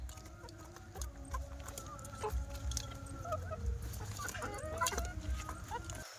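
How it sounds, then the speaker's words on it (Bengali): Chickens cluck and call close by at feeding time in a village yard, with repeated short clucks and a few louder calls over a steady outdoor background, no talking. "মুরগির ওদিকে খাওয়া দিয়েছি।"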